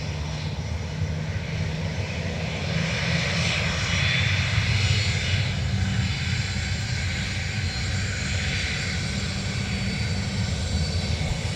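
An airliner departs Dublin Airport for Boston, its engine roar a steady broadband rumble that swells in the middle and holds loud and close throughout, with no voices over it.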